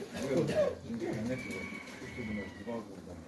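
Domestic pigeons cooing at a Ukrainian backyard loft, the soft low calls rising over a background of people talking nearby.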